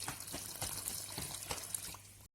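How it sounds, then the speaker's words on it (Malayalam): A cup of water is poured onto cement for a homemade flower pot, making a faint, steady trickling splash that stops abruptly at the end. "ഇപ്പൊ നമുക്ക് 1 കപ്പ് വെള്ളം ഒഴിച്ചു കൊടുക്കാം."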